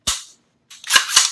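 AR-15 rifle on a PSA 10.5-inch kit being function-checked: one sharp metallic hammer snap, a pause, then a clustered pair of crisp clicks as the trigger resets, close and loud with no talk.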